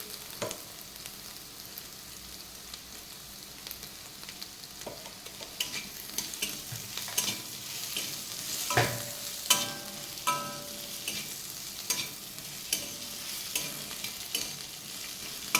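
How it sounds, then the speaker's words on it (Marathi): Potato bhaji frying in a pan as it is stirred: a soft, continuous sizzle with scraping and clinking of the spoon against the pan, growing more frequent toward the end, no voices. "पाच मिनिट आपण ही भाजी बारीक गॅसवर झाकून ठेवूयात आणि थोडीशी अशी शिजेल"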